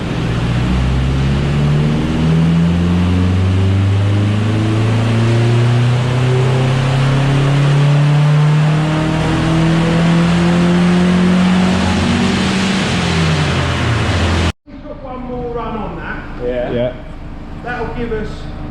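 A VW Lupo engine on a dyno climbs steadily to the red line in a long loud rising rev, cuts off abruptly, then people talk over a low idle.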